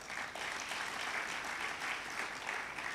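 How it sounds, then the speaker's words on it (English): Audience applause fills a conference hall at a central bank's annual suppliers' conference, a dense, steady wash of many hands clapping at moderate distance, fairly quiet and unbroken for the whole stretch. "Let us clap for Michael."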